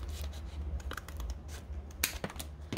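Scissors snip through craft material in a home sewing or crafting setting, several short crisp cuts and rubbing sounds close by with no talking.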